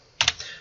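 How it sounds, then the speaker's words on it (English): A few quick keystrokes click on a computer keyboard nearby, two distinct taps and then a faint third, in a quiet room. "I'm going to type it in."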